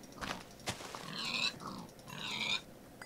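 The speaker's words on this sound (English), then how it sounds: "Tons of pigs." Pigs oink and grunt in a Minecraft village, several snorting calls close by in quick succession, loud and alone with no talk over them.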